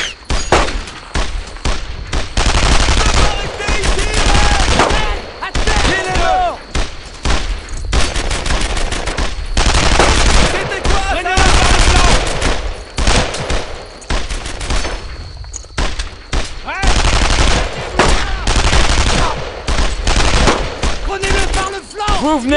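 Sustained machine gun fire and rapid bursts of rifle shots in a WWII squad battle in Brothers in Arms: Earned in Blood, loud and dense almost throughout, with brief lulls and occasional faint shouted voices.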